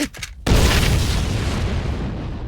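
A sudden, loud explosion booms after a brief pause, followed by a long rumbling roar that slowly fades.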